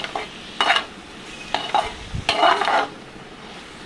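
Tomato, onion and masala are stirred in a pan for an egg curry, with several distinct scraping strokes of a spoon over a light sizzle, near and clear, with no voices.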